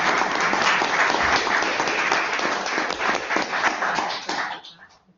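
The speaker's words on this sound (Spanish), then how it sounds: "Pues yo pido un aplauso para las ponentes." Audience applause at a conference session on the EU sustainability directive CSRD, a dense steady clapping from a seated crowd that holds for about four seconds and then tapers off quickly near the end.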